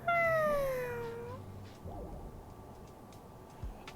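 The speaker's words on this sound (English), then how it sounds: "I made a cat pastry." Cat pastry creature in Honkai: Star Rail gives a single clear, drawn-out falling meow, followed by faint soft background game sounds.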